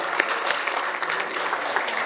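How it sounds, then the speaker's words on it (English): Steady applause from a conference panel audience, a dense patter of many hands clapping continuously at an even level with no talk over it. "Let's give him a warm round of applause."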